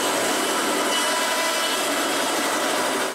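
A saw cutting through a nail embedded in a wooden log, giving a steady, loud, harsh grinding rasp that runs continuously for about three seconds with no talking.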